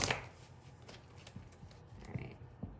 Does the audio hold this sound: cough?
no